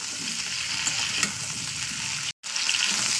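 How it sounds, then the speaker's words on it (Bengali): Cauliflower and potatoes fry in oil with a steady, close, crackling sizzle that cuts out for a moment near the end, then resumes. "ওই তেলেই ভাজা করে নিচ্ছি"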